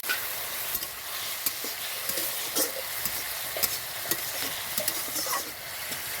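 Potatoes and chhatu (sattu flour) stirred together in a frying pan, a steady sizzle broken by frequent scraping strokes of the spatula throughout, with no voices.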